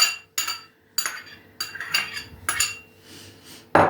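Metal utensils clink and scrape against a bowl as Korean carrot is added to a salad with thinly sliced cheese and bell pepper, in short bursts of close clattering separated by brief pauses, with no speech.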